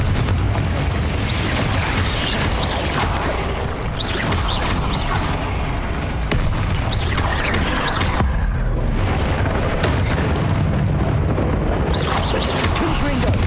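Booming blasts from Confringo and Bombardo spells in Hogwarts Legacy, repeated heavy explosions and crashes under a steady loud game mix, with a voice calling out over them.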